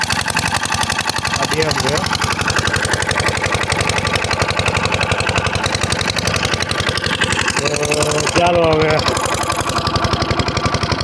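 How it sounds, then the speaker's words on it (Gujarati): An engine-driven farm water pump runs near a dam, a loud, close, steady rapid chugging throughout while a person talks over it. "આ અમારું પાણીનું મશીન છે, ચાલુ કરેલું પાણીનું મશીન."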